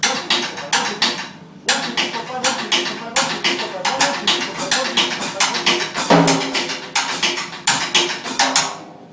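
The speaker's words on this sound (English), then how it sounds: "So that turns into a drum fill." A drum pattern in a five-over-four rhythm, rapid evenly spaced hits building into a fill, with a shifting accent cycle; crisp, close, and continuous.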